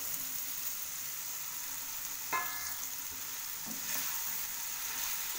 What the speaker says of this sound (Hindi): अब इसमें हम ऐड कर देते हैं ये जो मैंने बना चॉप किया है शिमला मिर्च, इसे भी अच्छे से भून लेंगे।